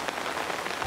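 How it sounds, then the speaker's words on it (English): Rain falling on a family's small tent at a children's festival in a cartoon, a steady close patter of drops on fabric, brief and even in loudness. "Oh dear, it is starting to rain."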